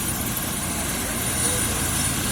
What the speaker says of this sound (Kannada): ಹೆಲಿಕಾಪ್ಟರ್ ಬೆಂಗಳೂರಿಂದ ಬಂದಿದೆ